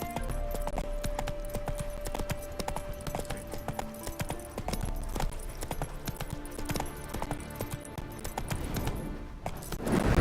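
Horse hooves clip-clop steadily in The Witcher 3 as the rider travels, a regular close rhythm running throughout over light background sound and music, with a rising swell at the very end.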